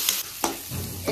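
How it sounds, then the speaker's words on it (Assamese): Lentils and chickpeas sizzle in a pan while a spoon stirs them. Three sharp scraping strokes, at the start, middle and end, cut through a steady close frying hiss. "2 মিনিটমান সময় দাইল বুটখিনি ভাজি লওঁ"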